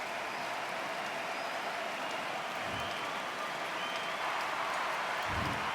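A packed arena crowd in a boxing video game keeps up a steady, dense roar of cheering and applause, with no breaks, and a few faint low thumps under it.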